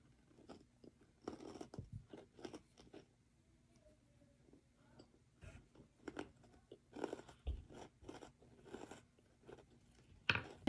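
A Sour Patch Kids Oreo cookie is bitten and chewed up close in a quiet room, giving irregular crisp crunches that come in bursts separated by short pauses.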